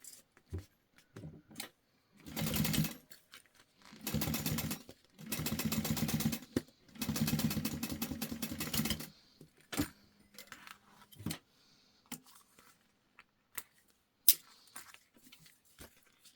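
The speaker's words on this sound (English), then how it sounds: "fold these over and top stitch them" Sewing machine top stitching the folded edges of a jelly vinyl pouch without lining, running in three loud bursts of steady rapid stitching separated by short pauses, followed by quieter handling clicks.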